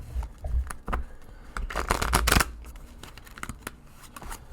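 A deck of tarot cards being shuffled by hand, a series of crisp riffling and flicking bursts with brief pauses between them, one longer dense riffle in the middle, close and fairly quiet, with no talking.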